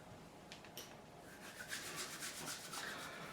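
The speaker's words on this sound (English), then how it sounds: "I'm just going to take some steel wool" Steel wool rubs along the frets of an ESP LTD EC-1000 guitar, producing quiet, irregular scratchy strokes, faint and close, with no talking.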